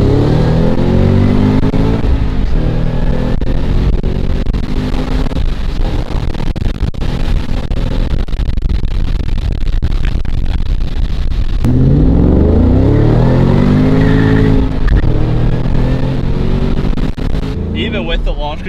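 A Shelby Mustang GT500 accelerates hard on launch control, a loud, continuous engine roar rising and falling with gear changes, while people talk over it inside the car throughout.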